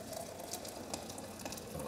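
Hot water poured into a stainless steel French press holding ground coffee, a continuous soft splashing and trickling stream, steady and moderately quiet, with no voices.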